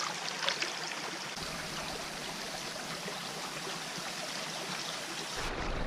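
A clear, red-tinted stream in the Dolly Sods Wilderness flows and trickles steadily close by, a continuous watery rush with small splashes and no voices.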